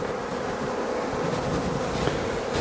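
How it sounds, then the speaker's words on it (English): Honey bees from a cutout colony buzzing in an Apimaye nuc hive box, a steady, close, dense hum with no pauses. "I think we've got a ton of bees in this box."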